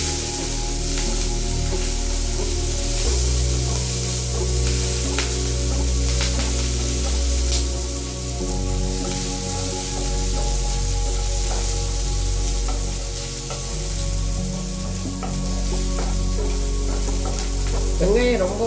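Steady sizzle of onions frying in a pan runs throughout, with occasional stirring scrapes and no talking.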